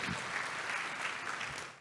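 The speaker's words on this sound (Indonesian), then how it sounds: "Tepuk tangan sekali lagi yang paling meriah buat Tuhan." A church crowd at a youth revival service gives sustained, dense applause, with steady clapping filling the room.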